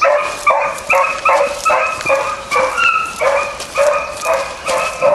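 A dog barks in steady, rhythmic bursts while hunting a squirrel outdoors. The barks are loud and close, about two each second, with no talk over them.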